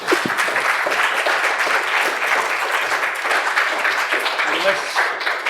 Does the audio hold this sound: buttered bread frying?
no